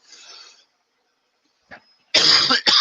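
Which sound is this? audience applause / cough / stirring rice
cough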